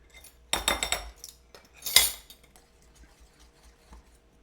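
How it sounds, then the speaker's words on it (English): A whisk clatters against a bowl of Japanese soufflé pancake batter: a quick run of metallic clinks, then one sharper knock, followed by quiet with faint small taps. "So I'm gonna have to do a little more whisking."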